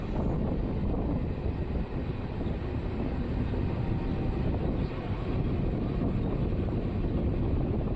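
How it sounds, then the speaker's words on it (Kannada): A MEMU passenger train pulling into Someshwara railway station, heard from on board as a steady, loud rumble and rush of wheels and motion that holds even throughout, with no voices. "ನಮ್ಮ ಟ್ರೈನ್ ಈಗ ಸೋಮೇಶ್ವರ ರೈಲ್ವೆ ಸ್ಟೇಷನ್ಗೆ ಎಂಟ್ರಿ ಆಗಿದೆ"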